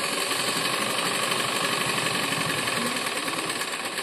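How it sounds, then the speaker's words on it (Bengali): Sewing machine stitching the sides of a bag made from a sack, a steady continuous mechanical whirring hum with fine rapid rhythm, close and fairly loud, with no talking. "এখন আমি সাইডগুলো সেলাই করবো।"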